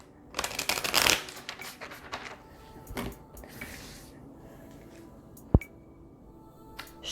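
Tarot cards are shuffled for a reading, with a quick burst of riffling paper flutter near the start, then softer slides and scattered taps, and one sharp click later on, all close and quiet.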